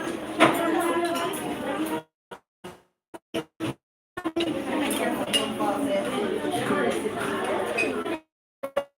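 Children eating a meal with knives and forks, light cutlery clinks and scrapes against plates, fairly quiet under steady talk and background chatter, broken by short pauses.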